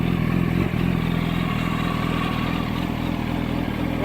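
A 2007 Yamaha YZF-R1 sport bike engine runs steadily close by, a loud continuous mechanical drone with clattering valve noise and a slight dip partway through, with no speech.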